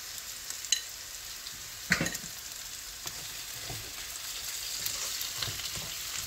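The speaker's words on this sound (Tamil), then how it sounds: "தக்காளி நல்லா வதங்கட்டும்." Finely chopped tomatoes sautéing with salt in a pan, a steady sizzle and fry with occasional stirring scrapes and clinks, close and unaccompanied by talk.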